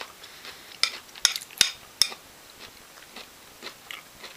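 Solid food chewed slowly and thoroughly, with a handful of crisp, sharp crunches early on followed by softer, fainter munching sounds, close to the mouth in a quiet room.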